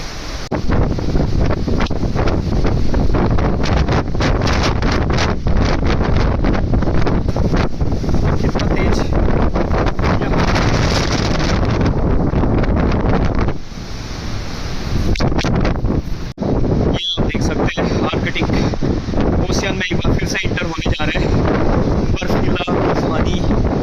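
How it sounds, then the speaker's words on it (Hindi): Strong, cold wind buffets the microphone at sea on the Arctic Ocean, a loud continuous roar with surf and boat noise beneath, briefly easing midway before surging back, while someone talks over it. "काफ़ी तेज़ विंड और काफ़ी ठंडी हवाएं यहाँ पे चल रही है।"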